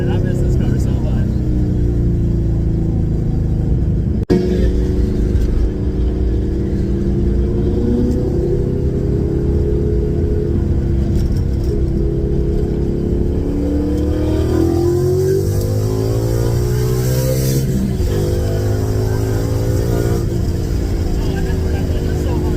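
A Ford Mustang with a swapped-in Coyote engine rumbles loudly as it accelerates, its pitch climbing through the gears with a shift partway through, while a driver talks over the constant close engine drone.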